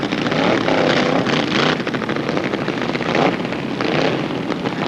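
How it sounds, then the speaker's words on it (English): Ford Flathead-powered drag race cars launching off the starting line at a 1990 reunion race at LA County Palmdale Raceway, giving a loud, steady roar of engines with tire noise and wind buffeting throughout. "Smoking the tires off the starting line"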